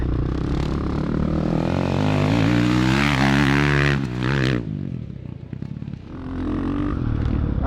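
A beefy Ducati Desmo 450 dirt bike is ridden in laps, its loud, close engine whining through rising gear pulls, then dropping away as the rider shifts and reaccelerates.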